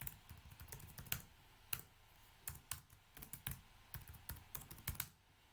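A password is typed on a computer keyboard in a quiet room, a quick run of soft, uneven key clicks that stops briefly and then goes on.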